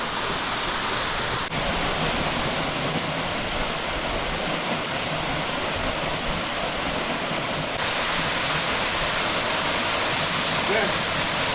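A waterfall in Bali sends up a steady, dense roar of falling water that fills the whole scene without a break, loud and close throughout.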